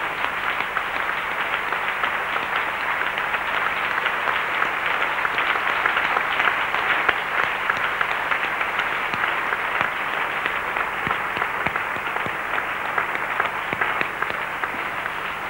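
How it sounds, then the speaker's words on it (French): A church congregation applauds loudly and steadily in sustained, dense clapping that fills the hall without a break, with faint voices mixed in. "Acclamons très fort Jésus-Christ"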